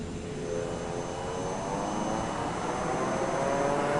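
Aircraft thrust reversers in Microsoft Flight Simulator 2024 give a steady, loud jet-engine roar that holds for the whole stretch, with a broad rushing hiss and a faint rising tone and no voices.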